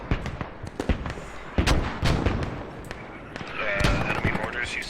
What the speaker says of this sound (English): Enemy mortars, you say?